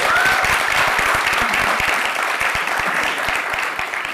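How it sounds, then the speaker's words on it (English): An audience at an app launch event with Javed Akhtar breaks into a sustained round of applause, broad and steady clapping that slowly eases toward the end. "Let's have a round of applause"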